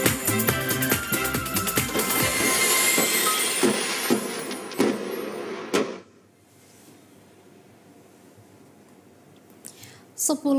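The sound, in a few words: train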